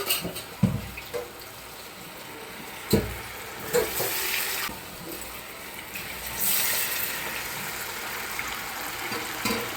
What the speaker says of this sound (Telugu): లో ఫ్లేమ్లోనే ఫ్రై చేస్తున్నాను ఇప్పుడు